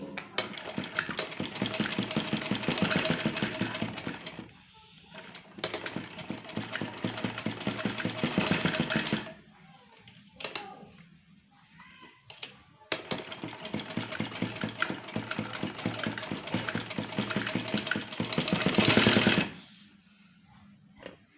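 A sewing machine stitches the collar of a boat-neck kurti in long rapid rattling bursts, pausing briefly between runs, close and loud with a short quieter gap in the middle.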